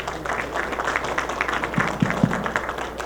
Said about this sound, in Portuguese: recebe o carinho e os aplausos de todos